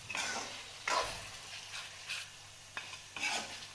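Mutton pieces scraped and stirred in a hot pan over a raised gas flame for curry, with several distinct spatula strokes over a faint steady sizzle, close and fairly quiet, no talking.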